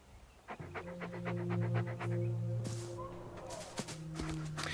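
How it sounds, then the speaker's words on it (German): A dog in the game FERA The Sundered Tribes pants close by in quick, regular breathy bursts over a low steady hum, with a few soft scuffs and game noises toward the end. "Der hechelt mir hier ins Ohr. Der Hund."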